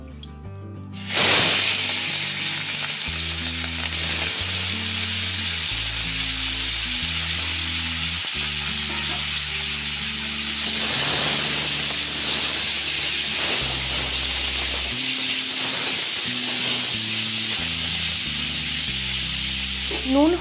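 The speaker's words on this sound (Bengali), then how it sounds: "নুন হলুদ মাখিয়ে রাখা এই চিংড়ি মাছটা সর্ষের তেলে একটু হালকা ফ্রাই করে নিচ্ছি" Prawns coated in salt and turmeric fry in mustard oil, a loud continuous hiss and crackle that erupts suddenly and holds steady close up, with a soft musical background running underneath.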